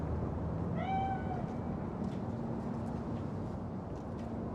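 A single drawn-out meow from a ghostly spirit cat in the video game Cyberpunk 2077, clear and fairly close, over a steady low background hum with no talking.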